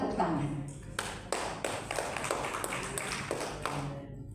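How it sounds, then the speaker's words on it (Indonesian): Applause at a church testimony service, a modest scattering of claps with a few sharper hits standing out, with voices mixed in at a moderate distance. "Tepuk tangan."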